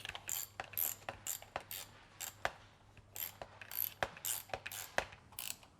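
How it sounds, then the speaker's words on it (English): A ratchet tightens two handlebar bolts on a superbike, giving close, quiet bursts of rapid clicking in short repeated strokes with brief pauses between them. "now I'm just going to nip these 2 bolts"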